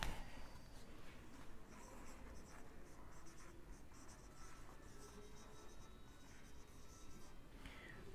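Chalk or marker scratches across a board in a physics lesson, faint rhythmic strokes and taps repeating through the stretch with no voice over them.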